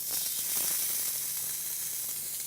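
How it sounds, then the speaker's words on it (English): Ahi tuna sears on a very hot griddle with a steady, bright sizzle and hiss that carries on evenly from start to end, with no talk over it. "Now you hear that sound? That's the sear, and that's what we're looking for."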